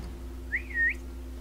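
Short whistle in the video game Resident Evil 4 on the Xbox 360, one gliding up-and-down wolf-whistle tone, fairly faint over a steady low hum, with no talking.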